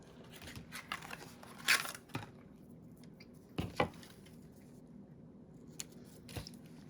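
Scissors snip through paper while trimming a paper craft bow, giving a few crisp close cuts and rustles spaced apart in a quiet room, with no talking.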